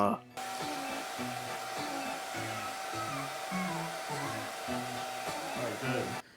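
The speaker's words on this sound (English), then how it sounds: "Start blow drying and scrunching at the same exact time." A hair dryer blows continuously close by while curly hair is dried and scrunched. Its steady whine runs under background music with a rhythmic beat, and it stops abruptly at the end.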